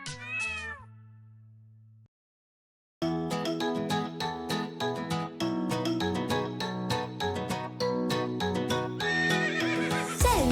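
A horse in a Hindi children's rhyme neighs and clops its hooves, mixed over a busy, loud music backing with steady rhythmic beats, after an earlier stretch of cat meows.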